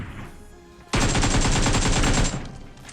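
Rapid automatic gunfire from the mobile battle-royale game PUBG Mobile erupts suddenly and loudly, a dense burst lasting about a second and a half before cutting back to quieter game ambience, with no talk over it.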